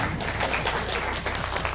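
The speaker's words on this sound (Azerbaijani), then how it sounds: "Alqışlayaq Zəhmət kəndi." Audience applause for students of a village secondary school who won a selection round in Gadabay, a steady wash of clapping filling the whole short stretch with no voice over it.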